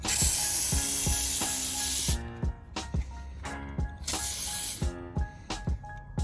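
Simple Green cleaner is sprayed onto an RC car in two long hissing bursts, followed by quick clicking trigger pumps and short spritzes, all heard up close.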